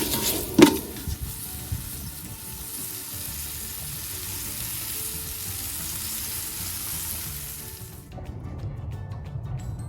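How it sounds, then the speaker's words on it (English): Beef chunks fry in oil in a pot over a campfire, giving a steady close sizzle with a sharper crackle near the start and the hiss easing off toward the end. "so that way we know all of that is cooking in the oil"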